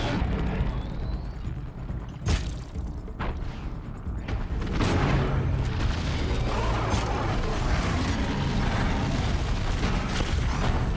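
Thunderjaw machine cannons firing in the video game Horizon Zero Dawn: sharp booming bursts early on, then a dense, loud, sustained barrage of blasts and mechanical clatter, with no talking.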